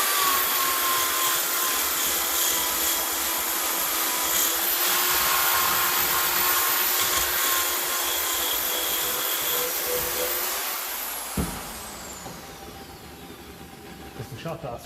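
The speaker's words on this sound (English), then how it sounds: "it's still good to run along here with the drill" Power drill with a wire brush or abrasive running along a shot-blasted lift arm from a 1954 Ferguson TEF 20 diesel tractor, a steady loud whirring grind that eases off near the end as the tool winds down.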